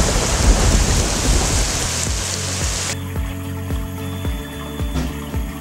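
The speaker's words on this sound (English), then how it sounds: "Rain was falling during this event at about 2 inches per hour." Heavy rain pours steadily at about 2 inches per hour with a dense hiss, while low rumbles of thunder roll underneath and a faint hum joins partway through.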